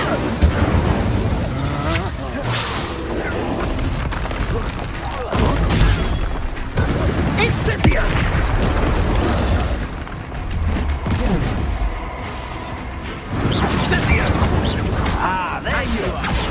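Spell blasts from Incendio fire and Expulso spells in the Hogwarts Legacy video game, a string of loud booming bursts over dense combat noise, with a voice talking between them.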